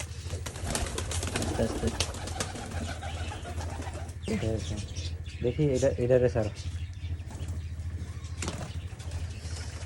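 Pigeons and doves at a village pigeon market give soft cooing calls and brief wing flutters, with people talking nearby throughout.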